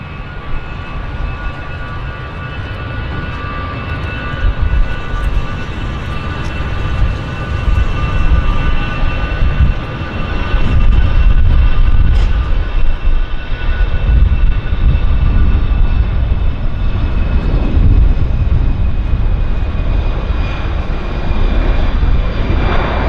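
An Air Canada jet takes off from runway 26 left at Vancouver airport, a loud sustained engine roar with broad rumble and steady whining tones, swelling midway and holding strong throughout.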